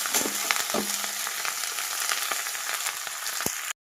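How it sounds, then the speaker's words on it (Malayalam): Curry leaves fry in hot oil with a loud, continuous sizzle and crackle, occasional sharper pops breaking through, before the sound cuts off abruptly. "ഞാനൊരു മൂന്ന് ബാച്ചായിട്ട് ഇട്ട് മൂപ്പിച്ചെടുക്കുകയാണ്"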